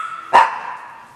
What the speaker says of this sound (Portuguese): Trilha sonora de cachorro latindo.